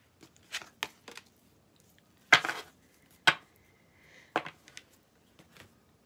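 Tarot cards being shuffled and handled: a scattered series of short papery riffles and slaps, some sharper and louder than others, close by with quiet gaps between them.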